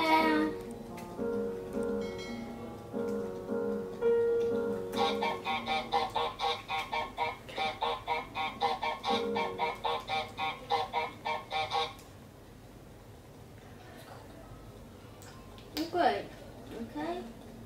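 Goose honking in the video game Untitled Goose Game on Nintendo Switch, a long run of rapid repeated honks over game music, with a person talking before and after.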